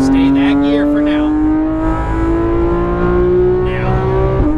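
Porsche GT3 RS engine accelerating hard on a race track, a loud, close, continuous roar that rises steadily in pitch as it holds one gear, then drops sharply at the end.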